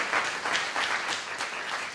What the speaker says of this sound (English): Give yourself a big round of applause to start it off.